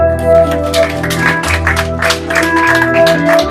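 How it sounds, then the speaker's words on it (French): A church congregation claps for the Lord amid sustained music with steady organ or keyboard tones, the applause swelling in bursts over the loud, continuous accompaniment. "Est-ce qu'on peut applaudir pour le Seigneur?"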